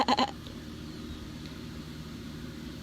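A sheep gives a quick pair of bleats at the start, followed by a low steady background rumble with no other calls.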